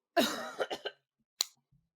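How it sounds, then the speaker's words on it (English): A voice followed by a single sharp cough, short and close, in an otherwise quiet room. "that's what a cough sounds like"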